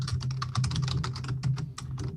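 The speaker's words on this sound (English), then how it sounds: "Who's typing away like crazy?" Rapid, continuous typing on a loud computer keyboard, dense clacking keystrokes close up with a steady low hum underneath and no talking.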